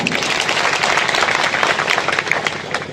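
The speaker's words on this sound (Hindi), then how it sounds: "तो तैयार हो तो ताली बजाओ।" Dense, continuous clapping from a large crowd at a speech gathering, loud and steady throughout with no voices on top.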